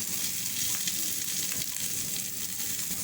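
Chicken with chopped carrot frying in hot oil for Mexican fried rice, a loud, even, crackling sizzle that runs unbroken through the brief span, close up and with no voices.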